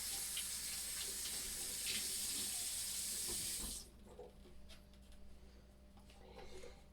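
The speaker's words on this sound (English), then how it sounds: "Now I'm going to take this clean cloth and I'm going to get it wet." Running tap water pours loudly onto a clean cloth in a sink for nearly four seconds, then cuts off, leaving faint handling noises and quiet dripping.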